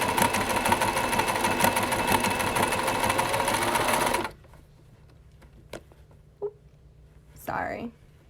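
Sewing machine stitching around the armhole of a garment, a loud steady whirring run for about four seconds that stops abruptly, followed by a few faint handling clicks and a brief soft rustle.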